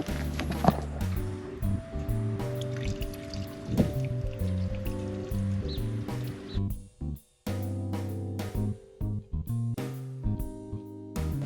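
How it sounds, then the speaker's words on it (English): Cold water poured to flush the coolant system of a Lexus SC430: close, gurgling, splashing flow with irregular bursts, brief pauses and dripping. "now I'm going to flush with cold water"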